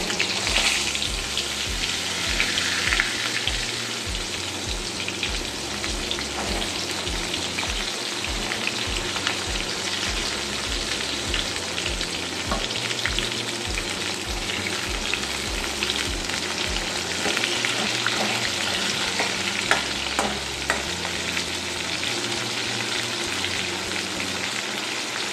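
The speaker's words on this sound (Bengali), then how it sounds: "আমি হালকা করে পটলটা ভেজে নিচ্ছি।" Pointed gourd (potol) frying in oil in a pan for a Bengali potato, potol and rohu fish curry, producing a loud continuous sizzle with a faint low rhythmic hum beneath, close up and with no speech.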